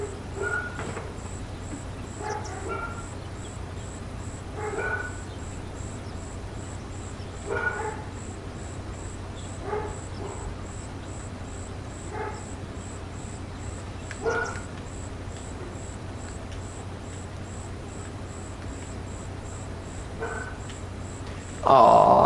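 Dogs in Farming Simulator 25 give a series of short, repeated barks and yips, spaced every couple of seconds over a steady low hum and a high, rhythmic ticking, with a louder burst at the end.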